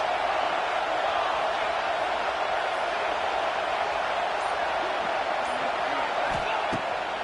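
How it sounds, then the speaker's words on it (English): Football stadium crowd at a college game between Ole Miss and Georgia roaring steadily at fever pitch on a third-down play in the red zone, a dense, sustained wall of noise throughout. "Third down play in the red zone, and this crowd is at fever pitch."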